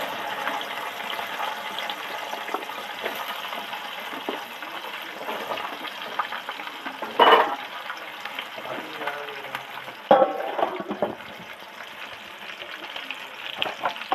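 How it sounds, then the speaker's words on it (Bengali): Okra deep-frying in oil previously used to fry katla fish gives a steady close sizzle and bubbling hiss, broken by two brief louder clatters of utensils against the pan. "মাছ ভাজার তেলে ঢেঁড়সগুলো ডিপ ফ্রাই করে ভেজে নেব।"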